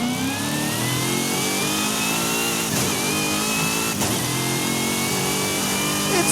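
A car engine in Forza Horizon 5 revs hard and loud from the interior camera, rising and falling continuously with gear-change dips, with no talk over it.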